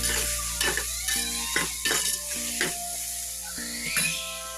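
Meal maker curry with tomatoes and salt is stirred in a pan over a low gas flame, a steady sizzle running under several scraping strokes of the spoon.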